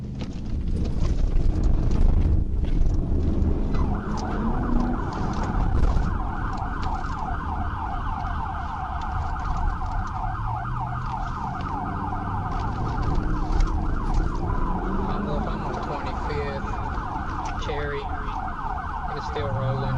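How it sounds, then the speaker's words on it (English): A police trooper's car siren wails in a steady, repeating warble, joined after a few seconds by rumbling road and wind noise at close range. "The trooper activated his siren briefly in an effort to get the driver's attention"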